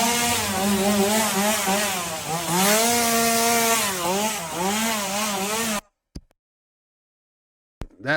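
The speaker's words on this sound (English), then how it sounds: "Somebody chasing you with a chainsaw, that'll get you running." A chainsaw engine revs up and down in a loud, close, wavering whine for several seconds, then cuts off abruptly into silence broken by a couple of faint clicks.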